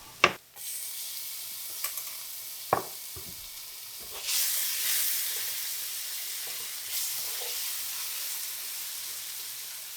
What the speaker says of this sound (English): Now we're going to go down with some garlic.